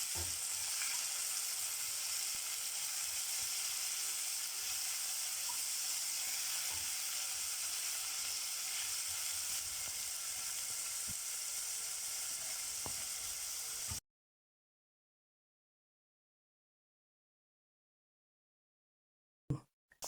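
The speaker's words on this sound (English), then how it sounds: "Let this fry until golden brown." Chopped onions, spring onions and coriander stems frying in a pot for a liver stew, a steady close sizzle and hiss for about fourteen seconds before cutting to silence.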